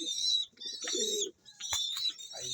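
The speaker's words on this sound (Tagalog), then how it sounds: "Ayan, ating mga ibon, kalapatids." Fancy pigeons being fed grain: low, soft cooing in short bursts under a busy layer of high chirping and rustling, fairly faint and close.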